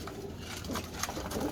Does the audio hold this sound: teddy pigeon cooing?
yes